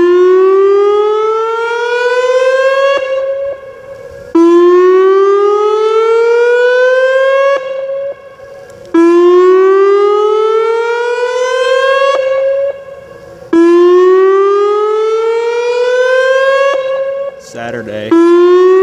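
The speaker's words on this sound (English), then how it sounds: "siren going off" A loud Whelen WPS 2750 civil defense siren wails in long rising sweeps during a test in Deer Park, Texas, cycling four times with brief drops between each, steady and dominant throughout.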